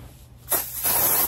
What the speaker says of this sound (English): all I do, to be honest with y'all, is spray it on my weave